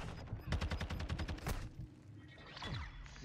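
Rapid automatic rifle fire from a teammate in the shooter game Modern Warfare 2 ranked play, a loud burst of closely spaced shots lasting about a second, followed by quieter scattered game noise.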